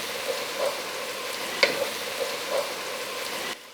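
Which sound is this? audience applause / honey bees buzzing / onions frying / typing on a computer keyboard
onions frying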